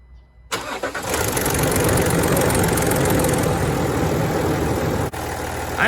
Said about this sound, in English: Let's see if the car starts well.